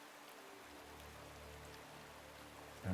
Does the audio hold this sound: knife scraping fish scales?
no